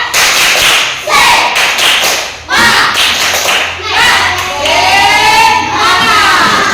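Students in a classroom repeat the rhythmic 'tepuk semangat' spirit clap, loud patterned claps in quick bursts mixed with group chanting voices close by.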